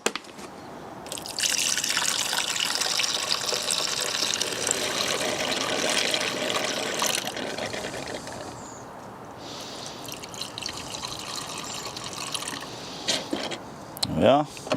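Water splashes and gurgles as it is poured into the washer reservoir of a BMW 7 Series, topping it up after screen wash, a close, steady pour that fades before a few handling knocks.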